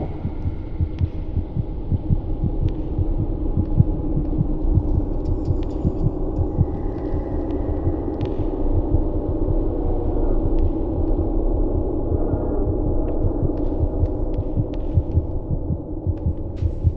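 A heartbeat in the horror video game Among the Sleep, a steady low throbbing pulse over a constant deep hum, loud and close, with no voices.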